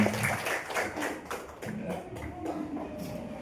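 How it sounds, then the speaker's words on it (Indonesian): Indonesian schoolchildren clap together in a classroom after a song, giving a quick run of rhythmic, evenly spaced claps with some voices mixed in. "Ya, tepuk tangan"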